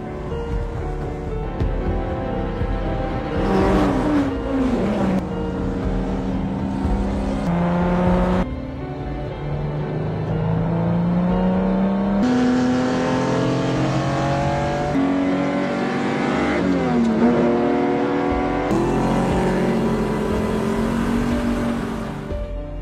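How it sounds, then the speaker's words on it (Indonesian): Race cars speed through city streets and mountain roads near Modena, their engines revving and howling in long rising and falling sweeps as they pass one after another, loud and close throughout. "Semua mobil terus melaju kencang melewati jalanan kota dan juga pegunungan."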